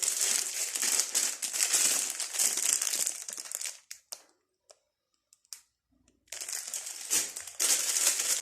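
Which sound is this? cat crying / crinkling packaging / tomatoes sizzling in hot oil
crinkling packaging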